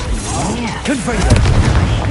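A blasting spell explodes in a PS4 wizard duelling game, a booming burst amid layered game effects and swooping tones, with voices calling out under the din.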